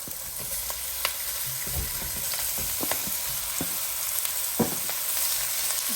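Garlic and pork sizzling in a pan while cooking Bicol Express, a steady hiss of frying with scattered pops and crackles and a few soft clinks of stirring.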